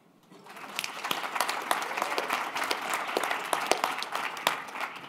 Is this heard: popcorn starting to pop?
no